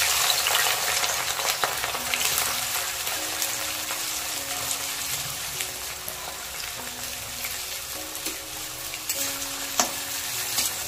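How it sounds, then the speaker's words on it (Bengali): Finely chopped onions fry in hot oil in a wok, crisping into golden beresta, with a steady, dense sizzle and crackle that holds evenly throughout, joined by a faint tonal hum in the background. "এবার এখানে আমি 2টো পেঁয়াজকে ভালো করে কুচিয়ে রেখেছি। এবার এটাকে বেরেস্তা করে নেব।"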